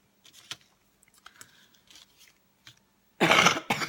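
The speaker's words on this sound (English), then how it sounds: "excuse me, I have a cough." A person coughs a few times up close, a short loud burst of rough coughs ending the stretch, after quiet scattered clicks and soft faint sounds.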